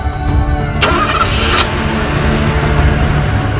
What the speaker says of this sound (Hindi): तू गाड़ी स्टार्ट कर।